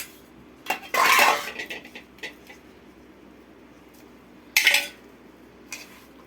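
A spoon clatters against a vessel while mango pickle pieces are mixed with garlic tempered in oil, giving two loud bursts of scraping and clinking separated by quieter pauses, with no talking.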